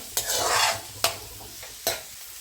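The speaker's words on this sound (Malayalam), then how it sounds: "പിന്നെ കുറച്ച് സബോളയും 3-4 അല്ലി വെളുത്തുള്ളിയും കുറച്ച് വേപ്പിലയും ഇട്ട്" Onion, garlic cloves and curry leaves frying in hot oil, a bright close sizzle broken by three sharp scraping stirs of a spoon against the pan, with no voices.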